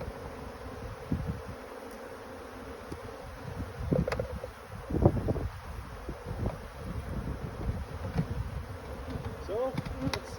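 Honeybees swarming around hives, a dense continuous buzz with individual bees zipping close past the microphone, light wind noise and rustling underneath.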